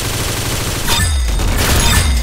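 Rapid video game gunfire from a competitive Sandtown Legacy match, a dense, loud run of shots with a heavier boom near the middle, continuous throughout with no voices.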